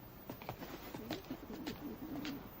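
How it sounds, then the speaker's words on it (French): Pigeons coo softly in a low, warbling series of notes, faint and somewhat distant over a hissy background. "Une cage pour mes pigeons."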